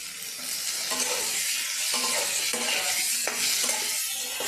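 Tomatoes and potatoes fry in a pan with a steady close sizzle, broken by several sharp stirring scrapes at irregular intervals.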